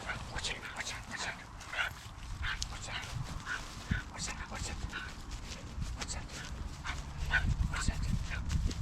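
A dog out on a muddy countryside walk at Rydes Hill, Guildford, whimpering, yipping and panting close by against rustling outdoor background noise, with occasional faint human voices.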